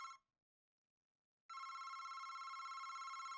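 Telephone in a horror video game rings with an electronic bell tone, a brief burst cut off, a second of silence, then a sustained ringing pulse continuing steadily to the end.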